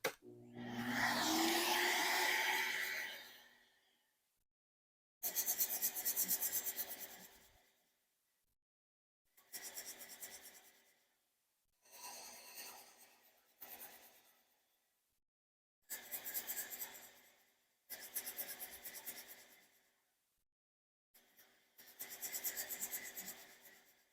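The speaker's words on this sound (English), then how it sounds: "I'm going with the 120 grit just to take down the Timbermate in a hurry." Festool sander with 120 grit abrading Timbermate wood filler in short repeated passes, a raspy scratching that starts and stops about seven times with silent gaps, close and fairly quiet.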